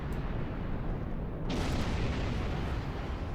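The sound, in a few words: ship explosion in the video game Star Trek Online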